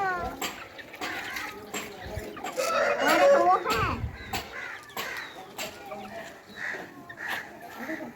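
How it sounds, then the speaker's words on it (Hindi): Chicks cluck and peep while being fed lemon outdoors. Their calls come in scattered short bursts, mixed with people talking nearby. "ले लो ले लो ले लो, तुम चूजे हो ना, खा लो।"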